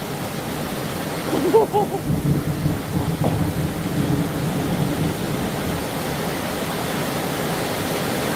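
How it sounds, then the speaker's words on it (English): Thunder from a lightning strike across the street during a rainstorm, a loud rumbling crash that rolls on under steady heavy rain noise. "I looked right into that lightning bolt. That was right across the street."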